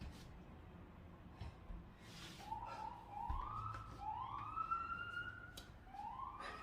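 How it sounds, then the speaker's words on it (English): A police siren wails in rising, repeating sweeps at a distance on a New York City street, over a low rumble of city traffic. "The sounds of New York."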